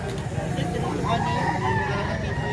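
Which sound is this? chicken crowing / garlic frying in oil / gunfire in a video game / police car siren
chicken crowing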